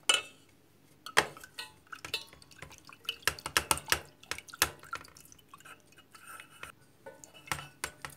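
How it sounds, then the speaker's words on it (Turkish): A spoon stirs a homemade cough remedy mixture in a container, giving irregular clinks and taps against the sides with a faint wet swish between them, close and fairly quiet, with no talking. "Ve bir güzel bunları karıştıralım."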